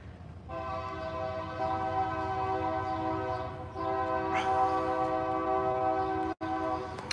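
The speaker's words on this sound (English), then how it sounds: "I don't think you can see the train from here" A passing train sounds a long, steady horn blast, briefly broken and then resumed, heard outdoors at moderate distance on a morning dog walk.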